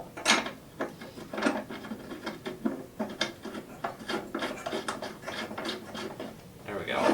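A small hex bolt being tightened inside an Elation Sniper 2R stage light, heard as close, irregular ratcheting clicks and gritty metallic turns in short bursts, with faint talk now and then.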